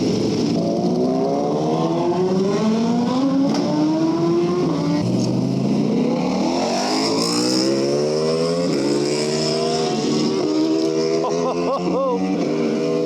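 Superbike with a Vandemon exhaust system in a carbon-and-black theme revving hard on a track, loud rising and falling engine pitch sweeping through repeated gear changes, with faint talking underneath.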